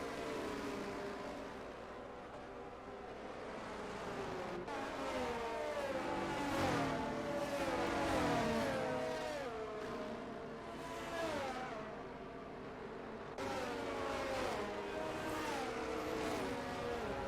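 Race cars lap a circuit under safety car conditions in a PC racing sim league event, engines droning and revving steadily throughout with fluctuating pitch as several cars run together, no speech.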